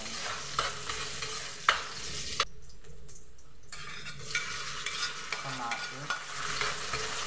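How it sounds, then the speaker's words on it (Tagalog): Garlic and onion sauté together in a pan for bulanglang, a constant close sizzle with occasional utensil taps, briefly cutting out for about a second midway before resuming. "Ilagay na natin bawang at saka sibuyas. Isabay na natin ito."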